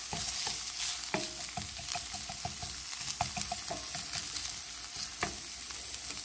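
Steady frying sizzle of vegetables including peppers, with crackles and pops, punctuated by occasional scraping stirs against the pan; no voices.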